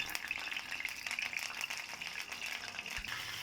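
Fish with curry leaves sizzles and crackles in hot oil in a pan, a steady bright fry with small pops, close and moderately loud, no voices.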